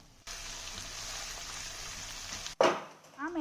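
Schezwan red sauce pasta is stirred in a hot pan, giving a steady frying hiss with a spoon scrape, then a brief clatter and a voice.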